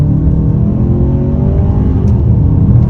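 A 2022 Hyundai Santa Fe Calligraphy in sport mode pulls hard in second gear, its engine note rising steadily and loud from inside the cabin, with no talk.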